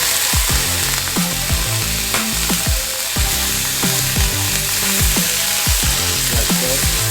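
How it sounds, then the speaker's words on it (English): Peppers frying in a pan alongside hot dogs, probably Nathan's jumbo beef franks with grilled onion, give a steady close sizzle. Repeated scraping and clattering stir strokes cut through it, and nobody talks. "if you want to put your peppers in there, you can put your peppers in there"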